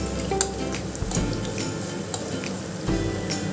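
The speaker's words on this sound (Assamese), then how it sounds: "ল' ফ্লেমত ধুনীয়াকৈ ভাজিব লাগিব" Malpua batter fries gently in oil over a low flame, a soft continuous sizzle with a few light clinks of a utensil against the pan.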